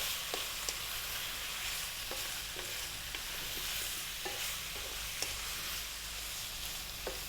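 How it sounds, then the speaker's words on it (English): Onions and carrots fry in a pot of lamb stew over medium heat, a steady close sizzle broken by a spoon scraping and stirring in irregular knocks throughout, with no voices. "now I'm going to drop in my carrots, like my hardest vegetable"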